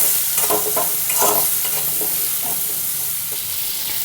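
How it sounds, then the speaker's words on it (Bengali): Potatoes with turmeric powder are stirred in a frying pan, giving close, loud scraping and tossing under a constant bright sizzle, busiest early on before settling into steady frying. "আলুটা জাস্ট একটু নাড়াচাড়া করে নেব।"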